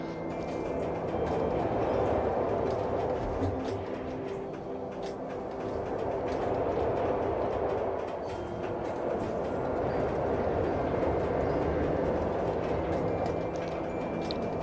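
An Intamin Giga coaster train rides along the track in Planet Coaster 2. It makes a steady rolling rumble with faint clickety-clack ticks, rising and easing slightly, with no talk.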